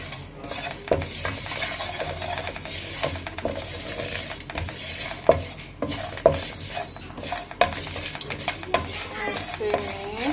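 Masala and meat roast in a pan over a low flame, a spoon scraping and clinking against the metal in repeated strokes over a soft, steady sizzle.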